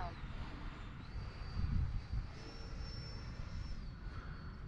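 An FMS Rafale 80mm electric ducted-fan RC jet passes in flight, a steady distant whine with a brief swell of rushing air midway, blended with light wind noise.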